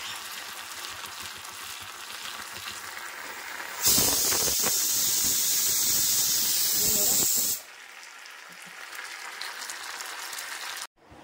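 A loud burst of sizzling hiss as mustard seeds and green chili drop into hot ghee, lasting a few seconds, then dropping back to a quieter background.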